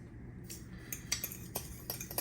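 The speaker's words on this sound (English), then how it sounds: "We're going to take 1/4 cup of sugar and a teaspoon of cinnamon, and we're going to mix that together." Sugar and cinnamon are stirred together in a bowl, with faint, quick clinks and scrapes of a utensil against the dish, several light taps in irregular rhythm and no talking.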